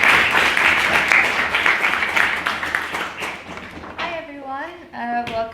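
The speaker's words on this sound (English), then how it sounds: "so give you some round of applause" Audience applause at a debate society meeting, a dense steady clapping from a crowd for several seconds that thins out, then gives way to a voice speaking near the end.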